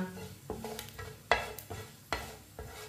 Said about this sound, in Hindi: आधी चमची साबुत जीरा, आधी चमची साबुत धनिया। आधे मिनट के लिए रोस्ट कर लेंगे।